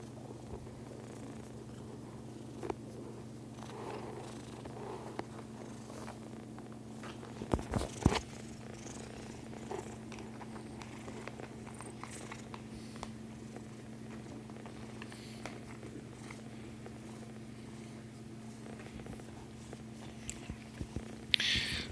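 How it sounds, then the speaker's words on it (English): A kitten purrs steadily in close-up, a low continuous rumbling drone held for the whole stretch, with a few brief rustles and bumps breaking in near the middle and at the end. "Wow, that's a lot of purring, though. Listen to those purrs."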